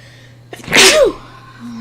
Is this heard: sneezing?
yes